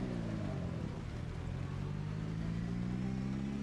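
A pimped-out muscle car shaped like a '57 Bel Air, driven in Project Zomboid, idles and revs with a steady deep engine drone whose pitch slowly rises, close and continuous with no other sounds.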